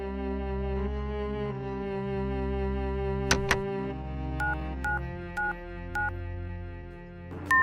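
Telephone keypad tones beep one after another, with five short, evenly spaced tones following a couple of sharp clicks, all over a quiet sustained musical hum with no talking.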